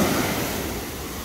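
Big surf breaking at Fatima, a broad, steady roar of ocean waves that stays loud and close with a little wind rush across the microphone, and no voices.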